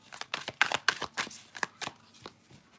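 Tarot cards being shuffled to draw a clarifier card, a quick run of crisp riffling slaps and flicks close up, about a dozen in a few seconds with no talking.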